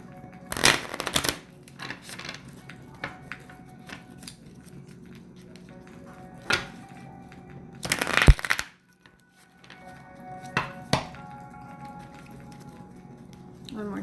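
Oracle cards are shuffled in several quick riffling bursts, separated by quieter pauses and small handling sounds, close to the microphone.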